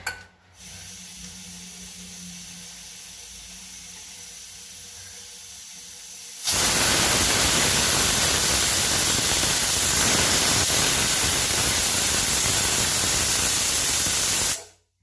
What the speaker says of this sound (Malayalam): ഒരു വിസിൽ വന്നു. നമ്മൾ കുക്കർ ഓഫ് ചെയ്ത് കഴിഞ്ഞു.